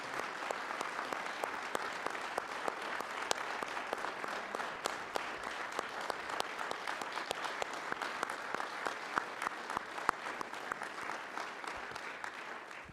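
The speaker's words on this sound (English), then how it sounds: "give one more round of applause for our newest police and firefighters" Sustained applause from an auditorium crowd at a town council meeting, welcoming newly appointed police officers and firefighters; steady dense clapping at moderate distance, no voices over it.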